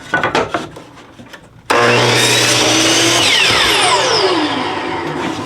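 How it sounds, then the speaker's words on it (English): A miter saw cuts a wooden fence picket at 45 degrees: a few light knocks and handling taps, then the blade abruptly whines up into a loud, sustained cutting roar that slowly winds down toward the end. "Let me go ahead and put a miter on this one. So we're going to cut these in a 45."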